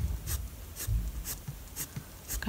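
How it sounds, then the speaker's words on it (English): Pencil strokes drawn across paper while sketching a porcupine, a series of five soft, evenly spaced scratchy swipes, close and quiet with no talk. "go ahead and just start your pencil on the paper"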